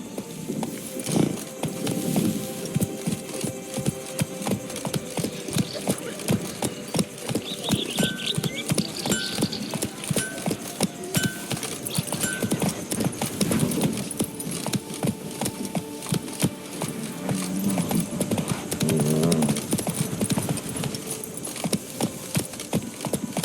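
Horse hooves pounding at a gallop in The Witcher 3, a steady rhythmic beat of hoofbeats that runs throughout, with tack jingling and game ambience layered around it.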